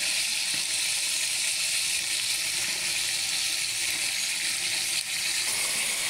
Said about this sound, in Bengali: এখন আমি মাছগুলো দিয়ে দেব।